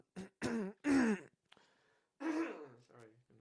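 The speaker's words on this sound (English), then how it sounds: "Stop coughing into the mic" A person clears their throat and coughs close to the microphone, with brief voiced sounds in between.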